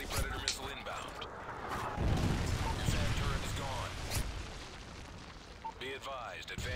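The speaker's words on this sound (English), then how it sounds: "Friendly predator missile inbound." A predator missile strikes in an online Call of Duty: Modern Warfare 3 match, a deep rumbling blast that swells and fades amid other game effects and a voice.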